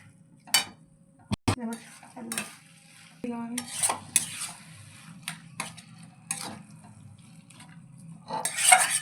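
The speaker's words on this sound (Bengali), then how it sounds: "এবার ভালো করে বেগুনটাকে এমনি করে পিষে দিচ্ছি" Roasted eggplant is mashed and mixed with spices in a pan or bowl for begun bharta, giving irregular utensil clinks, scrapes and soft squelches, some sharp and close, separated by quiet gaps.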